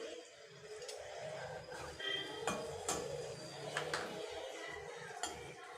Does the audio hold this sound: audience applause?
no